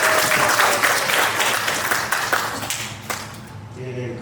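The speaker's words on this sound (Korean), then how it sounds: "큰 박수 부탁드리도록 하겠습니다." Audience applause at a science talk event, a burst of clapping from a crowd that starts full and gradually thins out, with scattered individual claps near the end.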